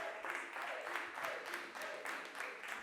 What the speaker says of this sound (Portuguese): Salve de palmas para JP.